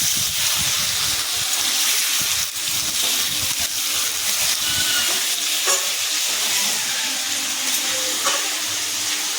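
Meat sizzles and fries in a pan with ginger-garlic paste, a steady loud hiss broken by scraping stirs, with no talking.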